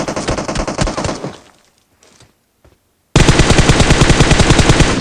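Rapid automatic weapon fire in PUBG Mobile on the Livik map, a loud burst that fades out, a second of near silence with a few faint clicks, then another sharp full-auto volley.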